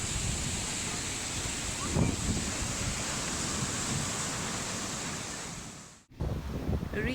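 Ocean waves break on Redington Beach, Florida, in a constant loud roar of surf with gusty wind buffeting the microphone and a brief dropout near the end.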